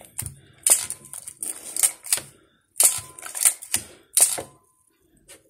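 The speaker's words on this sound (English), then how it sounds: "Close the camera." Nikon EM film camera being handled and its back shut, a series of crisp mechanical clicks and snaps in irregular bursts, close and fairly quiet, with no talking.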